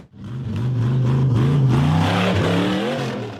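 A silver off-road buggy charges up a steep concrete embankment, its engine roaring loud and close, the pitch climbing and straining as it accelerates hard for a few seconds.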